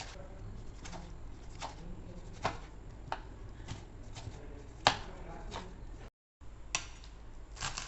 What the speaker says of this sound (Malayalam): ബിരിയാണിക്ക് ആവശ്യമുള്ള ഉള്ളി, തക്കാളി ഒക്കെ അരിയലാണ് അടുത്ത പരിപാടി